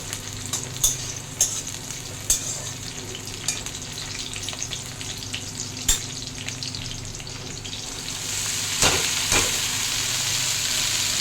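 Red amaranth greens hit a hot pan and sizzle steadily, with sporadic sharp crackles and stirring scrapes over a constant frying hiss that swells louder near the end.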